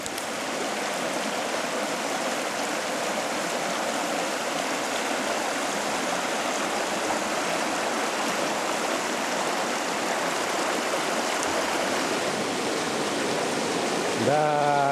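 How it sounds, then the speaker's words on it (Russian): A small river rushes and burbles steadily near the bank, a loud continuous wash of flowing water lasting the whole stretch with no pauses. "Да, красиво возле такой реки."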